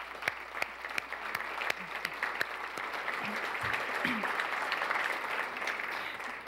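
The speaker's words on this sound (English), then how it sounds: "So please give them a round of applause." Sustained audience applause at a magazine awards ceremony, steady dense clapping with a few sharp nearby claps standing out, fairly loud and continuous throughout with no one speaking over it.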